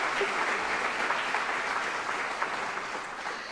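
At a university athletics Hall of Fame induction ceremony, the audience gives steady, moderately loud applause, the dense clapping holding at an even level throughout.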